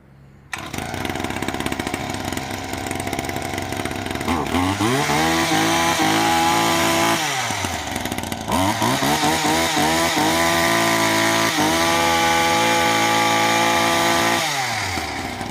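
An Einhell petrol hedge trimmer starts after a brief quiet moment and runs loud and close. The two-stroke engine revs up and down in repeated surges with brief dips between them, and no one speaks.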